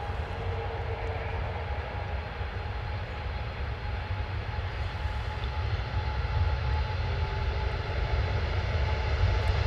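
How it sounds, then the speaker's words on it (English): A China Cargo Airlines Boeing 777 with GE90 engines taking off, a continuous broad roar and rumble that stays loud and steady and swells slightly toward the end, with no voices. "big old GE90 engines on that Boeing 777 spool up."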